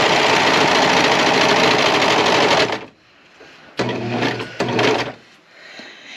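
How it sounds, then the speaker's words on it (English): A sewing machine whirs steadily for a few seconds, stops, then runs in two more short bursts with quiet pauses between. "Here's my sewing machine."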